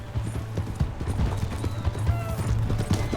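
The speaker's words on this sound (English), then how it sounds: "Hey, that's my horse!" Horse hooves clip-clopping in the Red Dead Redemption 2 video game, a quick steady rhythm of close hoofbeats running throughout alongside game sound effects.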